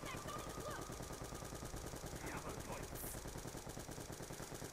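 Rapid automatic gunfire from a zombie-fighting video game, dense continuous bursts filling the whole stretch at steady loudness with no talk over it.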